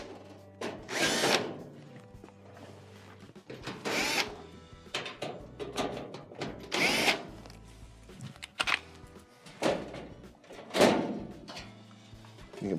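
A power drill backs out 1/4-inch screws from the rear panel of a Frigidaire oven, several separate short whirring bursts spaced a second or two apart, each followed by faint clinks.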